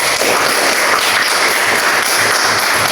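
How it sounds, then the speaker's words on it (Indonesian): A group claps steadily for a few seconds, a dense, even patter of hands with no voices. "Tepuk tangan dulu untuk kita semua."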